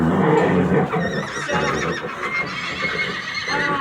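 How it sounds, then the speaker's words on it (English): Horses being unloaded: a loud, close neigh and whinnying ring out over the clip-clop of hooves on a hard surface, with a second shorter whinny near the end. "you want these horses coming out square, so they're not dragging a stirrup"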